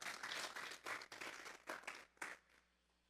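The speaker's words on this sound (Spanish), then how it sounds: "Vamos a darle un fuerte aplauso pues al Señor esta mañana" Church congregation applause during a Sunday morning service, a modest round of clapping that swells in uneven bursts and thins out toward the end, fairly faint and distant.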